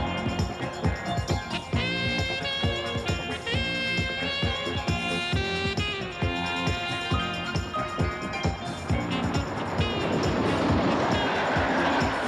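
An Austrian Federal Railways (ÖBB) main-line train running on tracks, with a steady rumble and rhythmic rolling beneath prominent music, growing into a broader rushing noise near the end.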